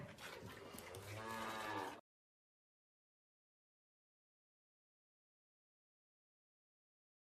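A cow lets out a single drawn-out moo close by, lasting about two seconds, followed by near silence.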